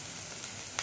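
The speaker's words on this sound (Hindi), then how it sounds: "शिमला मिर्च को भी हमें ज़्यादा नहीं भूनना है" Capsicum fries in a pan with a soft, steady sizzle, close and low in level, with a brief louder crackle near the end.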